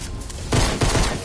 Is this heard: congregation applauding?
no